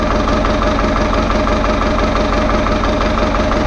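A diesel engine, just back from an injection pump and timing repair, runs at a steady, close and loud idle with a rough, knocking clatter and no talk over it.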